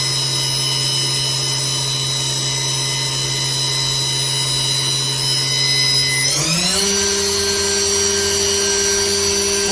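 A 2019 Haas VF-2SS vertical machining center spindle whining steadily at speed, then ramping sharply up to a higher pitch and holding, loud and close with no talk.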